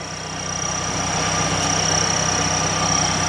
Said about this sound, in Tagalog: Naririnig nyo ba yung makina ng Lancer namin? Ito, pakinggan nyo.